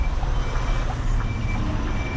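Reversing beeps from a Scania V8 truck hauling an oversize load as it backs up, a steady high tone repeating over loud, constant engine rumble and cab noise.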